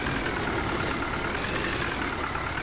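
Tractor engine in Farming Simulator 15 running steadily and loud throughout, a continuous low mechanical drone with no other sounds on top.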